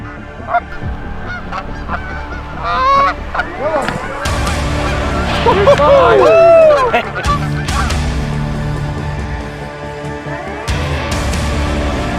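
Large flock of Canada geese honking over an early-season hunting spot near a cornfield, many overlapping loud calls rising and falling in waves, some close and some farther off, with no speech.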